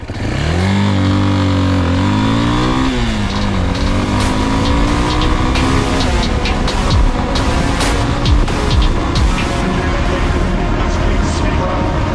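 A motorcycle with a fully stock exhaust, header and muffler accelerates hard along a straight road. The loud engine note climbs through several gear changes, rising in pitch with each gear and dropping briefly at every shift.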